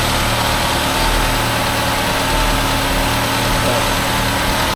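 A Mercedes 190E engine idles steadily and evenly, a constant low rumble with a faint hum, close by and uninterrupted.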